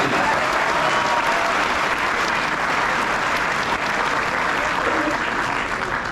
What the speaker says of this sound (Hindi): तालियां कम है इस करने पर आपके पूरे।